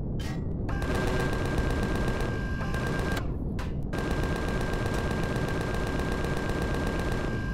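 Video game gunfire in Empyrion Galactic Survival: sustained rapid automatic fire, loud and continuous, with two brief gaps, dense and close against a constant background.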